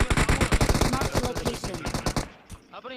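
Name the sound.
gunshots in the video game PUBG Mobile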